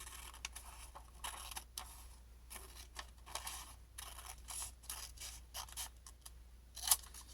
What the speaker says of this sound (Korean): 그러면 이 선을 따라서 가위로 오려줄게요.